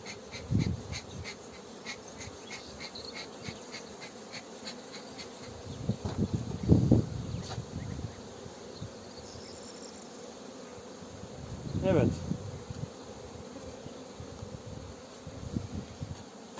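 Honeybees pouring out as a third box layer goes onto a hive, a thin steady buzz underneath with a few louder bursts of knocking and handling noise from the hive parts.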